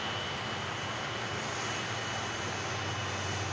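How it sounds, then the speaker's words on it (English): A Dreamliner jet aircraft at Manchester Airport produces a continuous, steady engine roar, loud and unbroken throughout. "We do have a Dreamliner on the way out as well"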